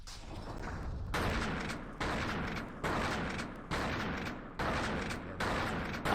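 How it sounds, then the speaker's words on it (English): Shotgun blasts in The Thing video game: six heavy booming shots spaced roughly a second apart, each followed by a decaying rumble, loud and close with no talk. "I like that the shotgun one-shots the tentacles"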